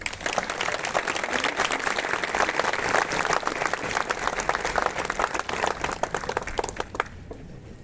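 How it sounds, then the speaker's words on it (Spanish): An audience applauds after a speech at a religious lecture, a dense, sustained round of clapping from a crowded room that holds steady for several seconds before quickly tapering off near the end. "Le brindamos fuertes aplausos"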